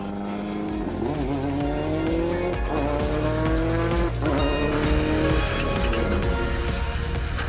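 A GRC race car at the launch phase of testing roars loudly and close, engine revs climbing through repeated gear changes while tires squeal and skid, with no talking.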